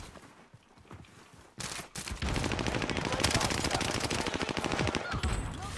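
A shooter video game: after a few scattered shots, a rapid sustained burst of automatic gunfire rattles loudly and evenly for several seconds.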